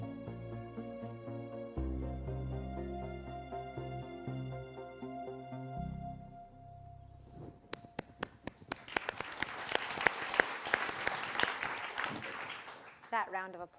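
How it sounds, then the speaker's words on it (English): Audience applause at a live research event begins after sustained musical tones fade, building from sharp separate claps into a dense, fairly loud burst of clapping. "That round of applause was both for missing pieces, but more for me"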